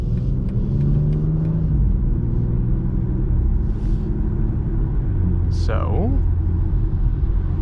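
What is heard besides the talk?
BMW X4 M Competition S58 engine with ZF 8HP driving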